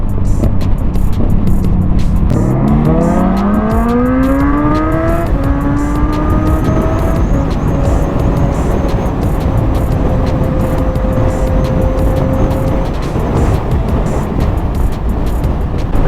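A Kawasaki Ninja 650 motorcycle with an aftermarket exhaust pipe revs hard up through its gears, the engine note rising steadily across several shifts before settling into a loud, sustained drone close by.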